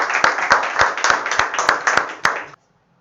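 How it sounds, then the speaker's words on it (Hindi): Enthusiastic clapping from a crowd at an institute ceremony honouring a top-ranked Bihar board 12th-grade student. The applause is brisk and continuous with a few sharper claps standing out, then cuts off abruptly after about two and a half seconds. "जोरदार तालियां"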